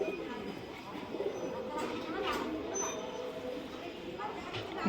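Malbai pigeons from a breeding loft cooing close by, low throaty coos mixed with a person talking and some rustling.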